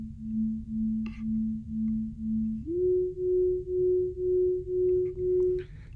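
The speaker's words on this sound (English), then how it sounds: "here we'll perceive a sine wave that is oscillating" A sine wave oscillator from Max/MSP synthesis sounds as a pure, smooth tone pulsing in regular throbs, then steps up to a higher pitch halfway and keeps pulsing evenly, with a couple of faint clicks.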